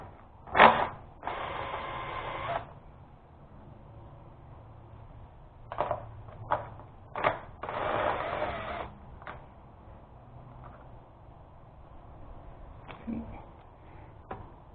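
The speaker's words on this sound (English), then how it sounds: "I'm going to use a number 10 socket and remove those as well." A number 10 socket wrench loosens the two battery bolts on a Honda CRF250L motorcycle, with rapid ratcheting bursts and short clicks at close range, separated by quieter handling noises.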